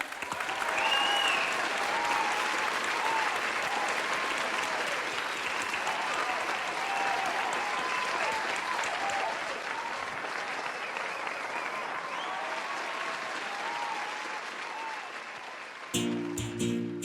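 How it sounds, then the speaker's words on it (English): A talent search callback audience gives sustained, dense applause and crowd noise for a performer named Ian, holding steady for about fifteen seconds before cutting off abruptly. "can we please have the best of order and a round of applause up to the front for"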